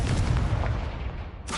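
Confringo spell blast in Hogwarts Legacy on PS5, a loud booming explosion that rumbles and decays over a second and a half, followed by a short crackle.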